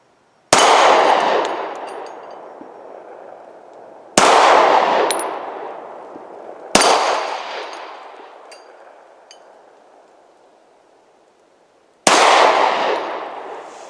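Glock 43X pistol shots striking steel targets outdoors, four sharp loud impacts spaced a few seconds apart, each with a ringing metallic clang that decays slowly; no talking.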